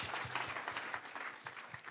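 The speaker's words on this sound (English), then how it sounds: "We can clap for sure." An audience at a young leaders summit claps in brief, dense applause of many hands, moderately distant and fairly soft.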